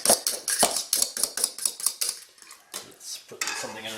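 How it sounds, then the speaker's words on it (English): Eggs are beaten quickly in a bowl with a metal utensil while hot broth from an avgolemono egg and lemon soup is added, a rapid clinking rhythm, close and loud, that slows near the end. "we're going to temper this by adding hot broth from the soup, beating the entire time"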